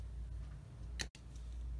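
A single sharp snip as a plastic part for the turret top of a Tamiya 1/35 Panzer II kit is cut off, close and crisp over a faint steady hum.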